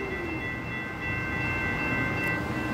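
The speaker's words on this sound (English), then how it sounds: "The CSX OCS Office Car Special, headed southbound at Northwest 135th Street, Miami, Florida." A CSX Office Car Special train rolls southbound through a railroad crossing at Northwest 135th Street in Miami, Florida, with a steady loud rumble and a sustained ringing crossing-bell tone throughout.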